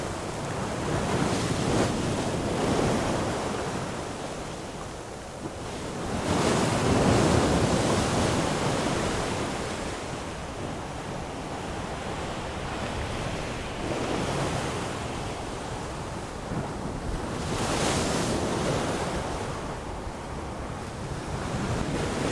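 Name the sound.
breaking ocean waves with wind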